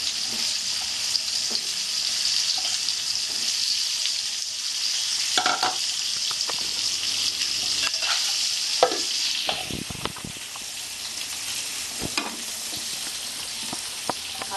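Potatoes fry in oil for a Bengali katla fish curry, a continuous sizzle with scattered stirring scrapes and clinks from a utensil in the pan.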